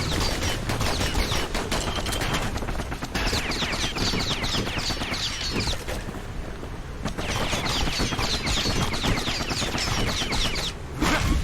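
Dual slinger pistols in the Bastion video game fire fast, dense volleys that stay loud and continuous, with a brief lull partway through before the shooting resumes.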